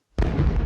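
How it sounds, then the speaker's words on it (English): A cinematic space explosion effect: one sudden loud boom bursting in and rolling on as a dense, rumbling roar with crackling texture, sustained without fading. "in those space movies where you hear those big explosions going off"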